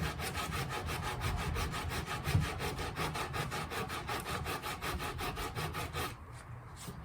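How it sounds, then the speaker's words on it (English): Rhythmic back-and-forth rasp of 80 grit sandpaper on a flat block over a Ford F100/F250 steering wheel, about three strokes per second, steady and close, stopping near the end. "this is 80 grit sandpaper, so it's pretty aggressive"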